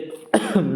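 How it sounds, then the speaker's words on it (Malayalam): A single sharp cough bursts out after a quiet moment, followed by a rougher, throaty second cough close to the microphone, on a rainy roofing site. "ചുമയുടെയൊക്കെ പ്രശ്നമുണ്ട്"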